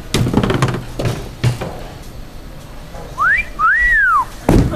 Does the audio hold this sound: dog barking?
no